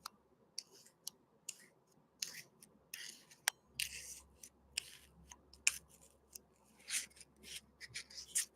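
Steel straight razor honed on a single coticule stone, short raspy strokes repeating at an irregular pace with light clicks between passes, close and fairly quiet, no talking.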